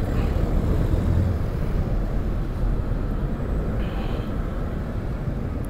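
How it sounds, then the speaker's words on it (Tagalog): Heavy traffic at Monumento makes a loud, continuous low rumble of engines and road noise, a dense steady roar with no clear single vehicle standing out. "Sobrang daming sasakyan dito sa monumento."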